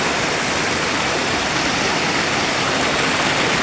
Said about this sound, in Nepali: पानी पनि कालो बग्दैछ